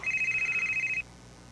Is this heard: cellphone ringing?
yes